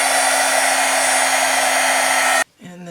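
A heat embossing tool blows steadily and loudly over embossing ink on Christmas cards, a constant fan-like whoosh that cuts off abruptly near the end.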